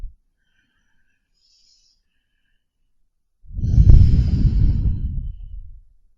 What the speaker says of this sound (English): Taking a couple of the deepest breaths, most filling breaths that you've taken today.